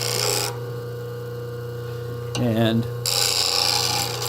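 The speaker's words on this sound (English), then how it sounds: "So I'm going to go ahead and touch this to the wheel, change my angle slightly," A steel plane blade is touched to a spinning grinding wheel for hollow grinding, giving a steady rasping grind with a short louder burst midway, while someone talks over it briefly.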